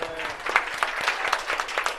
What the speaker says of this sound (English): Can we get a round of applause for Kyle's?